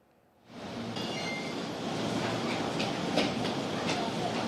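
A KRL commuter train rolls through Tanah Abang station in Jakarta with a loud, steady rumble and rhythmic wheel clatter. Faint crowd murmur sits beneath it, and a brief metallic clank comes partway through.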